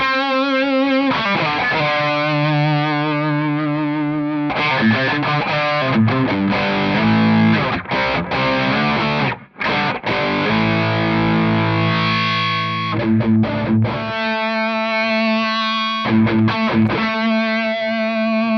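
Electric guitar played through a Rat distortion pedal, a thick, saturated stream of sustained chords and riffs for about eighteen seconds, loud, close and continuous with only a couple of brief gaps.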